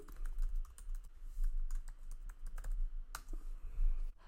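An email address is typed on a computer keyboard: a quick, irregular run of light key clicks and taps, close and fairly quiet, with no voices.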